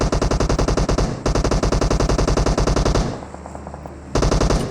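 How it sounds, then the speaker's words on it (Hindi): Rapid automatic gunfire from a Barrel gun in a mobile battle royale game, close and loud. Dense, even bursts are broken by one brief pause, then a stretch of softer clatter before the firing resumes. "अब ये धड़ाधड़ किसी को बैरल से मारता जा रहा था, पता नहीं किसको मार रहा था।"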